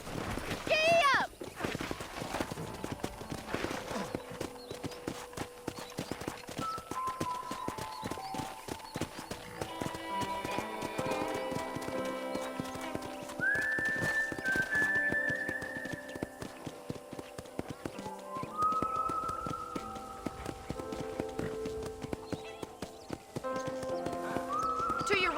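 Horse hooves clip-clopping at a brisk pace in a Western open-world game, with a whinny early on, steady and close under a music score and bursts of talk.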